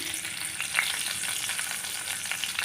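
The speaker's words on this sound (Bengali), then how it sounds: "ফোড়নটা আমার ভাজা হয়ে গেছে।" Green chilies and nigella seeds tempering in hot oil in a kadai, a dense, even crackling sizzle heard close up without any talk.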